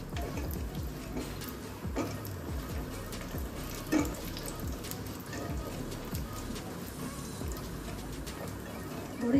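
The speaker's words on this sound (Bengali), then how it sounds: "বড়িগুলো দিয়ে দিচ্ছি। একটু লাল লাল করে ভেজে নেব।" Lentil bori fry in hot oil in a pan until reddish, making a steady crackling sizzle with scattered spatters and a couple of louder pops, over a low background hum.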